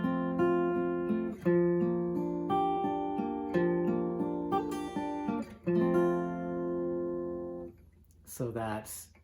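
Solo fingerstyle guitar plays the second ending of a song, with ringing plucked chords and melody notes, close and clear, followed by a brief voice at the very end.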